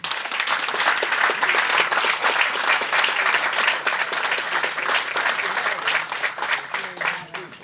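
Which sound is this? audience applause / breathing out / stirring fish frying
audience applause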